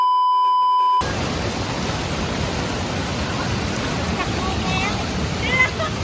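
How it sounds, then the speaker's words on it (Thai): Steady roar of flowing water at Sarika waterfall, a broad unbroken rush heard close and loud for most of the clip after a short electronic tone at the start. "ที่น้ำตกสาริกานะครับ"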